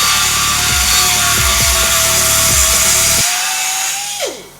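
A power tool spinning a 1mm cutting disc cuts into a part on a crashed Mazda MX-5 being rebuilt. The loud, steady high whine runs throughout and winds down at the end.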